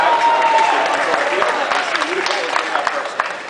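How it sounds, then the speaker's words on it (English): A live crowd at the 2013 US National Pokemon VGC Championships, Master Division final, cheers and applauds loudly in a sustained, dense roar with scattered claps and shouts, fading slightly toward the end. "Crowd goes wild for Ludicolo's fake out onto Scrafty."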